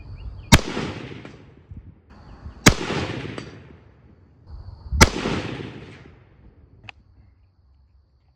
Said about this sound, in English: All right, 3 more bullets, here we go.